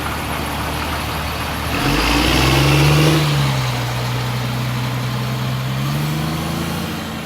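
A car pulls away hard while the engine is recorded from right behind its exhaust, giving a loud, deep revving roar that climbs in pitch, then settles into a sustained drone.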